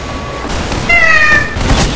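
A voice imitates a cat, giving a drawn-out, wavering meow that rises and falls; close and fairly loud against a steady background hiss, during a Team Fortress 2 game session.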